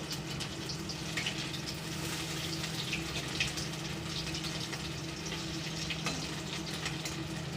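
Prawns frying in oil in a pan, a steady broadband sizzle with soft crackles throughout, fairly even and continuous with no talk.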